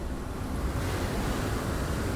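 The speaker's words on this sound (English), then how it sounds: "So windy." Wind blowing in the video game Chordosis, a steady broadband rushing whoosh, loud and continuous with no talk over it.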